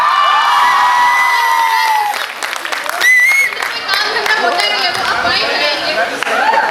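Cheering and applause from a college fresher party audience swell after a sustained tone fades, with clapping, whoops and lively chatter mixing in a dense, loud crowd roar that carries through to the end.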